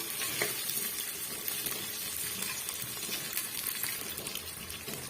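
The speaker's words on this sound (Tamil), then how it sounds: "நம்ம சேர்த்துருக்க சின்ன வெங்காயம் வந்து ஓரளவுக்கு வதங்கி வரட்டும் ஹை ஃப்ளேமில் வச்சுக்கோங்க" Small onions sautéing over a high flame in a pan while a drumstick-leaf curry is made, a steady close sizzle with occasional stirring scrapes throughout, and no voices.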